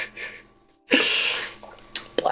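One close sneeze bursts out sharply after a quiet, breathy lead-in, followed by a short trailing exhale and faint sniffs.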